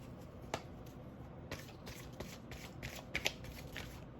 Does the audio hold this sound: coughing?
no